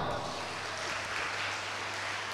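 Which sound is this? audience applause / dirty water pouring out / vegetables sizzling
audience applause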